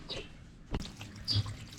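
Water is poured over turtles during a bath in hot weather, giving faint, brief splashes and trickles in two short bursts against a quiet background.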